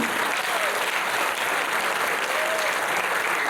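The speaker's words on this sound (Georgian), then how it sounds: "თქვენი აპლოდისმენტები" A concert audience applauds the choreographic ensemble Mermisi during an award presentation. The clapping is a continuous, even wash of many hands, heard from a moderate distance and steady for the whole stretch.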